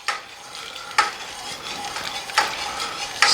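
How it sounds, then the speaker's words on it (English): A mixture being stirred into warm milk in a pot, with a soft continuous swishing broken by a few sharp utensil knocks against the pot at irregular intervals, close and fairly loud. "gradually stir that into your milk, warm milk mixture."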